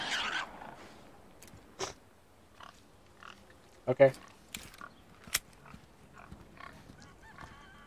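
A few short, separate grunting sounds from a pig in the video game Resident Evil 4 remake pop up over quiet background, with a brief spoken word near the start.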